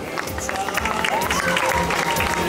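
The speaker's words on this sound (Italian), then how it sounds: "quindi facciamo un applauso." Spectators applaud at a Miss Vesuvio beauty pageant stop in Battipaglia, with loud, dense clapping that mixes with crowd murmur, faint voices and a few whistles.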